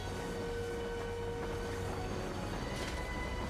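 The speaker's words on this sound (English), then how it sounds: "now maybe stop the locomotive" A locomotive train running in the video game Crisis Core gives a steady, moderately quiet rumble with a faint sustained tone and rail-like clatter, continuous throughout with no talking.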